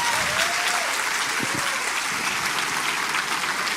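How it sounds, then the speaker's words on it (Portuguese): A church congregation applauds people baptized that morning, dense sustained clapping filling a large room throughout, with a faint voice briefly audible in the background. "Queria que a gente pudesse aplaudir de uma maneira especial, coletivamente, todos aqueles que foram batizados nessa manhã."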